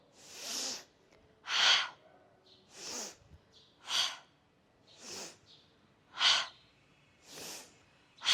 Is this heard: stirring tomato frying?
no